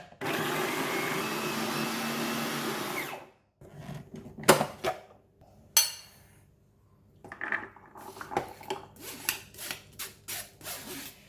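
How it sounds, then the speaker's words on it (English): A food processor blends cooked red beans into a smooth soup base, with a loud, steady motor whir for about three seconds, then clinks of the bowl and lid, scraping, and faint rattling of utensils close by. "We're going to use the food processor to blend it"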